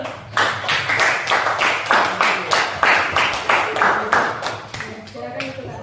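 Classroom group clapping in a teacher-training lesson, with bursts of hand claps in a fairly steady rhythm, close and loud throughout, and faint voices underneath.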